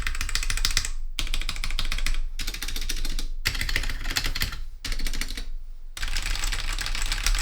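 Fast, steady typing on a Royal Kludge RK84 mechanical keyboard with red switches, dense close clicking in bursts separated by brief pauses, no talking.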